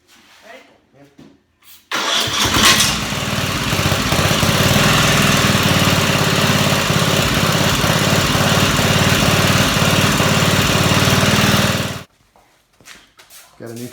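A junk garden tractor engine catches and runs loudly and steadily for about ten seconds, a rough continuous mechanical roar close by, then cuts off abruptly; brief voices murmur before it starts and after it stops.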